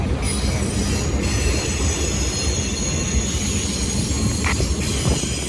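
A freight train rumbles past close by, loud and continuous, with a steady roar of rolling wagons and occasional squeals from the wheels.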